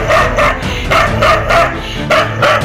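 Several dogs in a street in Hyderabad bark loudly and close by in repeated bursts, some yips and whimpers mixed in, with no voices over them.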